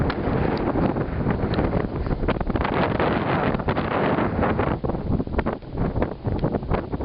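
Strong gusts roar across the top of a mountain pass on a North Lake loop hike, buffeting the microphone with loud, continuous low rumble and flutter throughout, no voices.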